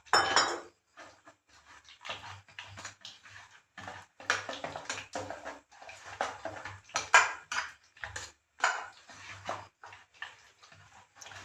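Cauliflower fritter batter being mixed with water in a bowl: a close, irregular run of light spoon taps and clinks against the bowl, with soft stirring between them and short pauses.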